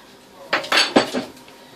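A spoon clinks against a cooking pot holding simmering Dominican pepper steak, sounding four quick metallic knocks at close range over a quiet background.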